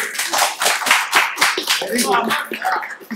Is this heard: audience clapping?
yes